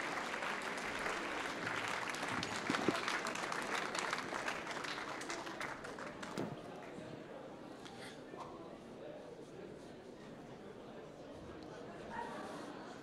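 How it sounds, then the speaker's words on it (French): Audience applauding the mayor at a sports awards ceremony in Montreuil, a faint, dense spread of clapping that swells early and then tapers into a thinner patter. "Patrice Bessac, que je vous demande d'applaudir"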